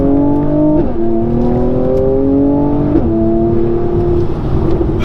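A 2019 Mercedes-AMG C43 Coupe engine, 385 horsepower, revs loudly, its pitch climbing steadily and then dropping briefly at each gear change before rising again, close and alone.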